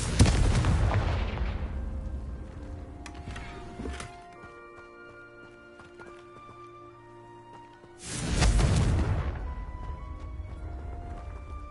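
Confringo spell blasts from the Hogwarts Legacy video game burst out as two loud explosive booms about eight seconds apart. Each is followed by ringing, shimmering magical tones that decay slowly.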